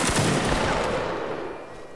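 A line of infantry fires a musket volley in a Napoleonic Wars game, a loud crackling burst of overlapping shots that rolls into a fading, echoing rumble.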